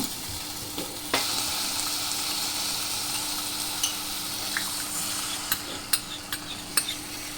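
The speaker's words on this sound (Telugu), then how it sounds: "ఇట్లా కలుపుకొని మనం ఇప్పుడు తగినన్ని నీళ్ళు పోస్తున్నాము" Water poured into a hot pan of sizzling egg pulusu mixture, a steady frying hiss with a few scattered clinks of a utensil against the pan.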